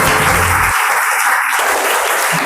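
Audience applause for a contestant at a kids' general-knowledge quiz show, a loud, even wash of clapping with a brief low rumble at the start.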